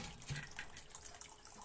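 Wort running from the mash into a brewing pot during a home brew, a faint steady pour and trickle of liquid heard close up, with no one speaking.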